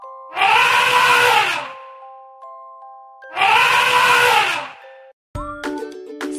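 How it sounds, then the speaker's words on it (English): An elephant trumpets in two loud, drawn-out blasts about a second and a half each, separated by a short pause, followed by a brief bright chime-like tone. "Elephant, trumpet."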